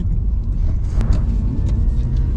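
Steady low engine rumble and road noise from inside a moving manual car, continuous and fairly loud, with no talking.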